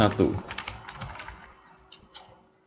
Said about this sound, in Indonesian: Masuk ke command prompt, ketikkan perintah tracer IP dari komputer 1.